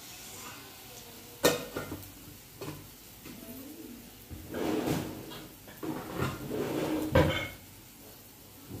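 Masala being stirred in a cooking pan over a low flame, with scattered spoon scrapes and clinks against the metal and a few sharper knocks, fairly close, without talk.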